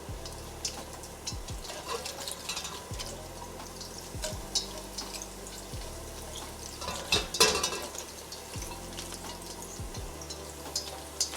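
Mushrooms sizzling in a pan, a steady close frying hiss with occasional louder crackles and stirring scrapes, with no talk.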